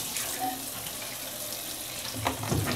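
Warm tap water runs and splashes steadily while a computer keyboard is rinsed under a faucet, a continuous close hiss with brief louder gurgles near the end.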